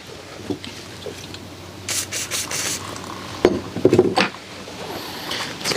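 A rag rubs and wipes anti-seize grease off a brake part on a Tao Tao ATV, giving close, intermittent scuffing bursts with a few sharper scrapes and knocks between quieter stretches.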